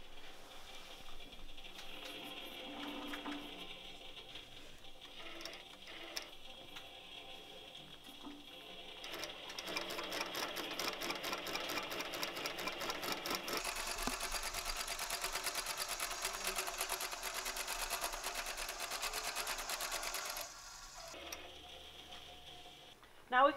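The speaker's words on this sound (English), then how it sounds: "and I'm ready to start basting." Longarm quilting machine, an Autopilot Mach3, basting a quilt at 3 stitches per inch with channel lock on, giving a steady mechanical whirring and rapid stitching that grows louder midway, with no talk over it.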